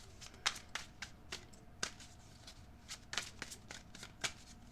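Tarot cards being shuffled and drawn, a run of crisp flicks and riffling snaps at an uneven pace, fairly close and quiet with no talking.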